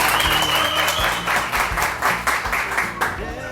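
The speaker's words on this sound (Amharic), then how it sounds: "ለሳሚ ባካችሁ አንዴ አጨብጭቡልኝ" A group applauds Sami, with several claps standing out over steady clapping. Music plays underneath and the sound stays loud throughout.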